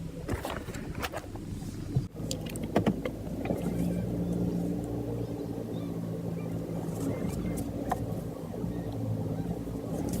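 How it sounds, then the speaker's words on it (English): A car engine idles and rumbles at close range while the vehicle is maneuvered into a roadside parking spot near a school, with a steady low drone, a brief thump around two seconds, and no talking. "Let me park this car."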